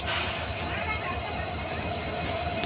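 A train rolls slowly through Bamanhat railway station, making a steady, loud rumble and rail noise that fills the whole stretch without a break.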